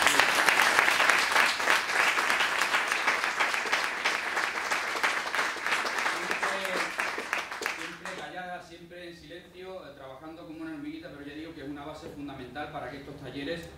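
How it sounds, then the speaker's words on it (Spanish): An audience applauds the course director, Luisa, at a SEPE workshop closing ceremony. Strong clapping fills the first half, then thins and fades as voices take over and talk continues. "hoy os voy a pedir un aplauso muy especial para nuestra directora del curso"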